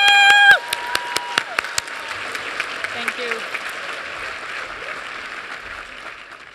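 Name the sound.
commencement crowd applause and cheering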